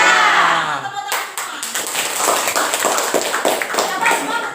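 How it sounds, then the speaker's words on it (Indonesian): A classroom of students claps hands together, bursting into loud, uneven clapping after a brief voiced moment. The claps come in quick rhythmic bursts with voices mixed in. "Tepuk tangan"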